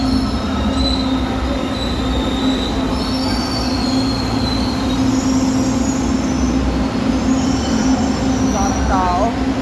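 A light rail train arrives, rumbling steadily on the rails with a high metallic squeal of wheels near the end, a busy station hum underneath.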